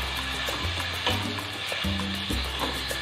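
Chopped onions sauteing in a pan for sambar rice, a steady close sizzle and crackle with occasional stirring scrapes, no talking.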